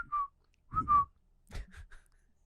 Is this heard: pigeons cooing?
no